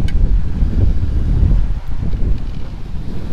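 Steady outdoor wind buffets the microphone with a low, continuous rumble and rustle throughout, with no voices.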